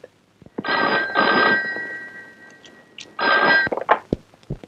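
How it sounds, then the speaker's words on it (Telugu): An old-style telephone bell rings twice with an incoming call in a film scene, loud close bursts separated by a pause, with small clicks and knocks around them and no speech. "ఇంకా తారాచంద్ దగ్గర నుండి ఫోన్ రాలేదే? వస్తుంది."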